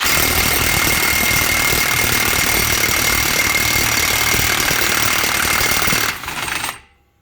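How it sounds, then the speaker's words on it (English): Impact gun removing a rear wheel hub castle nut on a 2015 Subaru XV Crosstrek, a loud continuous hammering rattle lasting about six seconds before cutting off abruptly. "So now I'm going to put the impact gun on it and knock that nut off."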